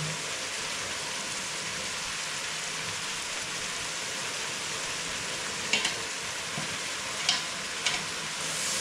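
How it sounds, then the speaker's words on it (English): Cooked traditional Kenyan vegetables such as sukuma wiki frying in cooking oil, a steady rain-like hiss throughout with a few sharp utensil taps near the end, no speech. "You cook them well, and then now you fry them"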